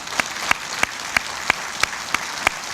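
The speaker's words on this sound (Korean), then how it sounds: "큰 박수를 보내드립니다." Supporters at a political party gathering clap in unison, crisp synchronized beats landing about three times per second over a low crowd murmur.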